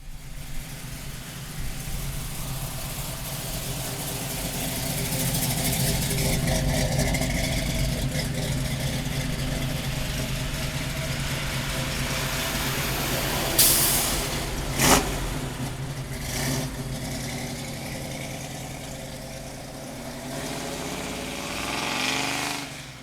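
A 1973 Chevrolet Camaro, a second-generation car with a big-block engine and 4-speed manual, runs and drives, its engine a steady, close rumble that swells gradually, with a couple of sharper bursts around the middle.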